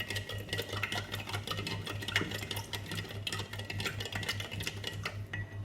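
Lime juice with sugar and water is stirred briskly, a steady fast clinking and swishing of a utensil against the container, with a constant low hum beneath and no talking.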